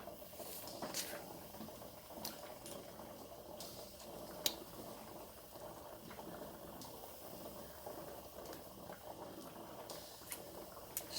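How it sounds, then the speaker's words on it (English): A pressure canner pot of chicken legs and thighs bubbles at a steady low boil over a low fire, a continuous soft hiss with faint drips and small clicks, alone and close. "Still steady boiling, you can hear it."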